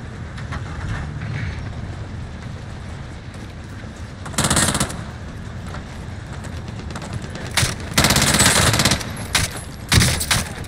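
Gunfire in the video game Call of Duty Warzone, with several loud automatic bursts over a steady background of game noise.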